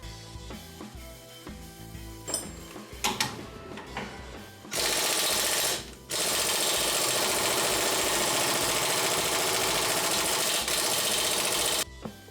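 Near the start come a few clanks and knocks, then an impact wrench on the lug bolts of a Porsche 914 hammers loudly in two long, continuous bursts separated by a brief pause.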